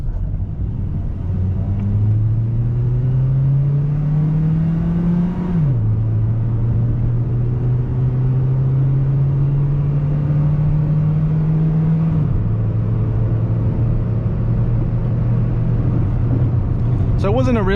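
A 2000 Toyota Corolla CE with a 1.8 liter engine accelerates hard from a stop, its engine note rising through gears with two clear upshift drops, heard from inside the car as a steady droning rumble.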